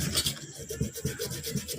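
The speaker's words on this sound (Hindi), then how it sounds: "ये जो है आप रेगमाल लगा लीजिए यहाँ पर हल्का हल्का।" Sandpaper rubs lightly back and forth over a part of an Activa 125 scooter engine during repair, giving a continuous close, gritty scraping rasp with soft rhythmic strokes.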